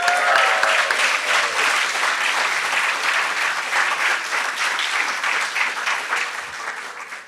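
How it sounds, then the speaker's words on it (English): Applause from graduates and guests at a nursing doctorate hooding ceremony, a full, steady roar of many hands clapping that fades slightly toward the close, with no talking. "Give yourselves an applause."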